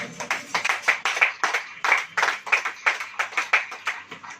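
Hands clap in a steady rhythmic beat at a church worship service, about three claps per second, close and crisp with no talking over them.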